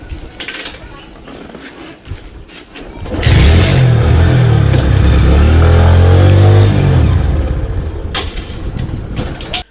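Motorbike ridden around a village streets to burn off its remaining petrol; a loud engine rises in from about three seconds, holding a steady revving drone for several seconds before easing off, with quieter road noise before and after.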